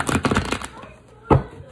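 Tarot cards shuffled by hand in a rapid run of soft riffling clicks, followed by a pause and a single thump as the deck is squared, with no speech over it.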